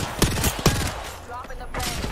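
Gunfire in the battle-royale shooter Apex Legends, a few sharp cracking shots early on and more later, heard under continuous talk and game chatter.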